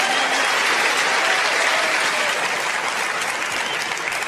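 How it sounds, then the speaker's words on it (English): Sustained audience applause in a snooker arena after a big shot during the UK Championship 2023 final, a loud, dense and unbroken patter of clapping that fills the whole stretch. "the applause started earlier"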